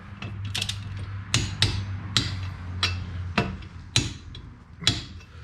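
Torque wrench clicking while tightening wheel bearing bolts on a 2011 Chevy Cruze, about eight sharp metallic clicks spaced irregularly over a low steady hum, close and fairly loud.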